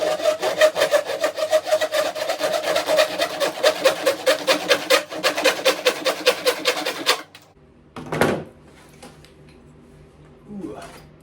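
Hand saw cutting wood into small 1.5-inch pieces, a fast steady run of rasping back-and-forth strokes for about seven seconds, then quiet with a couple of brief knocks.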